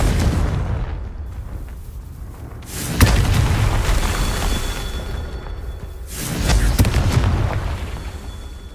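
Confringo blasting spells explode in Hogwarts Legacy, two heavy booming blasts a few seconds apart, each with a deep rumbling roar that slowly fades.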